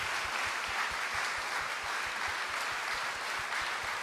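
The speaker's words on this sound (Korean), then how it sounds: "우리 하나님 앞에 영광의 박수로, 감사의 박수로 나아갑니다." Worshippers at a Korean Friday late-night church service give a sustained round of applause, an even, fairly distant wash of many hands clapping with no voices over it.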